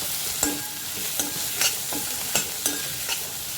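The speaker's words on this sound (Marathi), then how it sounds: "ह्याच कांद्याबरोबर आपल्याला बटाटे पण टाकायचे म्हणजे कांद्याबरोबर ते बटाटे पण शिजतात" Sliced potatoes and onion sauté in hot oil for moong dal khichdi, giving a constant sizzle punctuated by regular spatula scrapes and taps against the pan, close and unaccompanied by speech.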